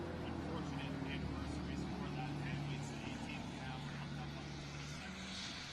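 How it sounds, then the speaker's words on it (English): A truck drives past outdoors during a courthouse press briefing, producing a steady low engine rumble and road noise that runs throughout, under faint talk. "I didn't hear any of that with that truck that went by."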